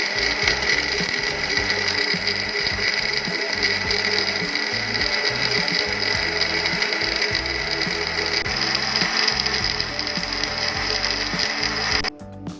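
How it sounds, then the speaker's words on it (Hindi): An electric kitchen blender whirs steadily, loud and close, as it purées falsa (grewia) fruit with water, with a constant motor whine and rattling churn that runs without a break before stopping abruptly near the end. "इसको मैं ब्लेंड कर लूँ तो मैं आपको दिखाती हूँ।"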